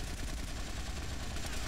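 Gunfire in the video game GTA: Vice City Stories rattles as a continuous burst of rapid shots, loud and dense throughout the short stretch.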